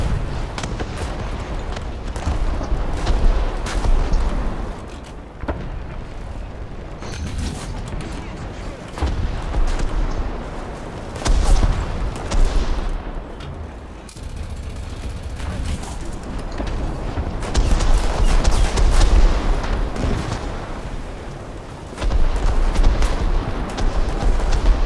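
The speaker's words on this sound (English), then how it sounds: "Oh my, that bomb just saved my ass." A bomb blasts in War Thunder arcade battles over Alaska, loud booms and crackling explosive bursts repeating through a dense, continuous barrage of combat noise while someone talks over it.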